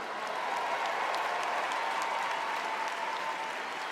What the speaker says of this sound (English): A man applauds vigorously.